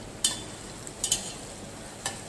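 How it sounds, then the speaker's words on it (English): Curry leaves dropped into hot oil while cooking mutton sukhe give a quiet steady sizzle, broken by a few sharp crackling spatters near the start, middle and end. "Now I am going to put curry leaves, because curry leaves usually splash the oil."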